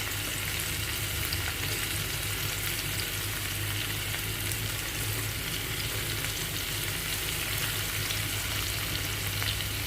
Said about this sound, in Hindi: बहुत ज़्यादा सौते करके बिल्कुल ऐसा नहीं करना जैसे पनीर तला हुआ होता है, बस हल्का सा क्रिस्पी हो जाना चाहिए ऊपर से